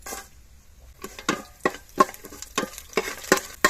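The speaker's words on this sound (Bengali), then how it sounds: "মশলাটা খানিকক্ষণ ভেজে নিয়েছি" Bay leaf, whole garam masala and five-spice crackle in mustard oil as a scattered run of sharp pops and splutters, close and irregular, over a quiet background.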